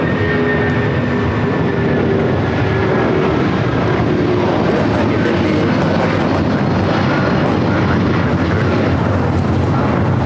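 A United Airlines Boeing 757-200 jet roars steadily through its takeoff, a loud, continuous broadband engine rumble with a faint whine above it that holds for the full length without a break or a voice.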